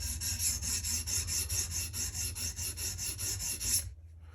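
Steady back-and-forth strokes of a knife blade across an abrasive stone on a TSPROF Kadet Pro sharpener, about sixteen even rasping passes close up, ending abruptly into quiet.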